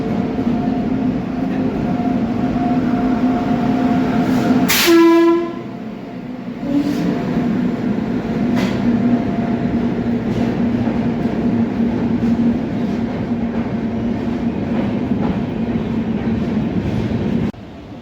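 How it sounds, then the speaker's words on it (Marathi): The Kacheguda–Manmad Ajanta Express rumbles steadily into a platform at Nanded station, with a loud horn blast partway through and continuous wheel and carriage noise throughout. "काचीगुडा मनमाड अजिंठा एक्सप्रेस ट्रेन नांदेड येथे प्लॅटफॉर्म नंबर वर येत आहे"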